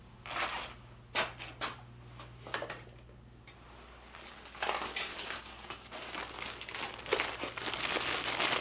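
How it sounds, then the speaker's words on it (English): A bag of bolts removed during the cylinder head job on a Volvo V70R 2.3T rattles and jingles as it is handled, with scattered metallic clinks and crinkling, growing busier and louder toward the end. "Big old bag of bolts."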